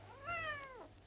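A stray cat gives a single close, clear meow that rises and falls over about half a second, over a low steady hum.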